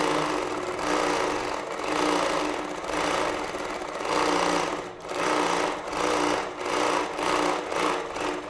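Longarm quilting machine stitching a test run on fabric, a loud, steady mechanical whir with a rapid needle rhythm, rising and dipping in pulses as the stitching speeds up and slows, running alone without talk.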